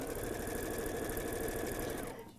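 A sewing machine stitches steadily in a fast, even mechanical whir, close by and running alone before slowing to a stop at the end.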